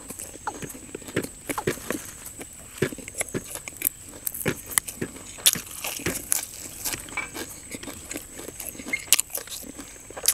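Crunchy, wet chewing of big Thai fermented pork sausage (mham) eaten with fresh chili and hot sticky rice, with close, irregular bites and smacks repeating steadily throughout, and no talk.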